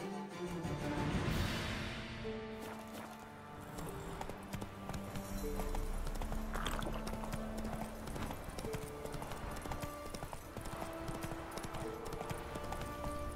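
Saddled horses in The Witcher III trot along with steady, rhythmic clip-clop hoofbeats over the game's musical score, at a moderate volume throughout.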